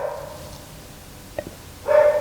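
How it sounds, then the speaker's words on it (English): A dog barks outdoors a short way off, a couple of faint yips followed by a louder, closer bark near the end, with a quiet steady background. "Doggy's barking."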